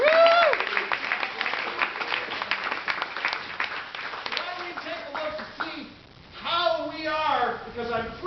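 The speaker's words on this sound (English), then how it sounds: "Give yourselves a round of applause" Applause and clapping rise from the audience at a sketch comedy festival show while a voice talks over it through much of the clip, the clapping busy and close, with louder patches near the end.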